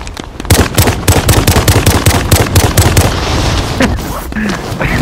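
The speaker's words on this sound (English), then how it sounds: "He's shooting Godzilla." Loud rapid bursts of gunfire pound at Godzilla in a Godzilla vs Kong video game, a fast staccato volley for about three seconds that then thins into scattered shots and game effects.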